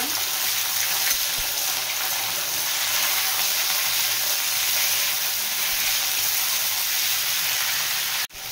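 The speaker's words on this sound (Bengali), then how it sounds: "বরবটিটা দিয়ে ভেজে নেব।" Long beans (borboti) fry in a pan with a loud, dense, steady sizzle that holds at an even level throughout and breaks off abruptly at the very end, with no voices.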